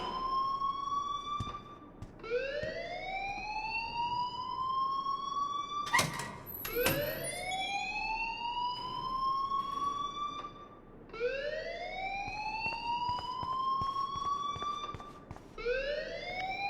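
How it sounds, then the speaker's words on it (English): Repeated rising electronic siren-like alarm tones in the Life is Strange video game, each sweep climbing steadily and restarting every few seconds, loud and close with no talk over it. "please turn off that alarm since that's your job"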